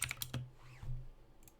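Quick bursts of typing on a computer keyboard at a desk, a handful of close, crisp key clicks spaced by short pauses, quiet and without talk.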